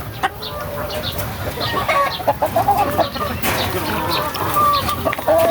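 Hens clucking in a backyard flock after rain, with repeated short calls near and at mid distance over a steady outdoor background, occasional louder bird notes rising above.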